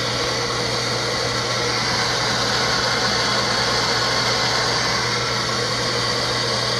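Pumps running in a plumbing system, a steady loud mechanical hum and whir that holds unchanged from start to finish.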